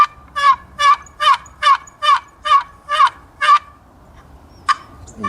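Turkey yelps cut on an MMGK Game Kall friction call, a run of about eight evenly spaced, sharp raspy notes at close range, then a pause and one more single yelp.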